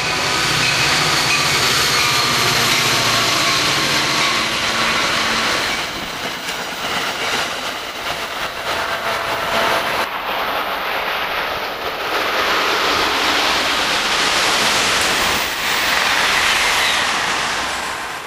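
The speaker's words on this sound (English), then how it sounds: "the first train to rip through Hamilton is an Atlantic City Line deadhead train" An Atlantic City Line deadhead train from the Meadowlands Maintenance Center rips through Hamilton Station, a loud sustained roar of rushing wheels and rattling cars with clacking rail joints, filling the whole stretch close by.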